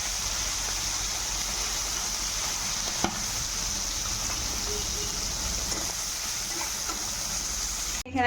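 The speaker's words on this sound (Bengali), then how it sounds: "তেলটা গরম হওয়া পর্যন্ত ভালো করে চিংড়ি মাছটা আমি ভেজে রাখবো।" Prawns with crushed garlic frying in hot oil, a steady, close, loud sizzle that runs throughout with one sharp tap partway through.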